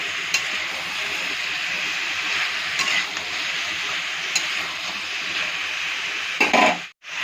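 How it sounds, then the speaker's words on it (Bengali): Vegetables for sambar fry steadily in a pan, a continuous close sizzle with occasional clicks of stirring and a brief clatter before a sudden cutoff at the end; no speech. "তো দেখুন, এইভাবে কিন্তু সবজিগুলো ভালো করে ভেজে নেবেন।"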